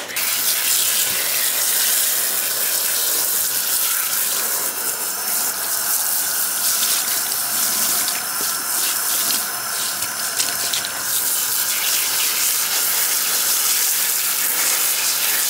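Tap water runs steadily and loudly for the whole stretch while a closure wig is rinsed under it at a sink, a continuous close hiss with no talking.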